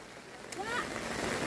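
Heavy rain pours down in a steady, even hiss that fills the whole moment, with no distinct drops or breaks standing out.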